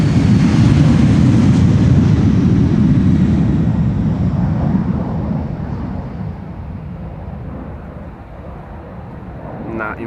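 A KLM Embraer 190 jet taking off from Schiphol's Polderbaan runway, a loud broad roar that gradually fades as the aircraft climbs away into the distance.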